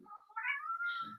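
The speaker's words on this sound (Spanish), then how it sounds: "les pido perdón si se escucha el gato maullando." A house cat lets out one drawn-out, rising and falling meow, close and clear against an otherwise quiet room, with no talking.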